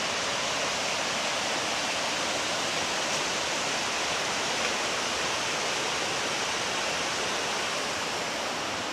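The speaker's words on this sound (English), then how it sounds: "walking along the creek." Creek water rushing steadily along a mountain trail, a dense continuous broadband wash that stays loud and even throughout with no voices.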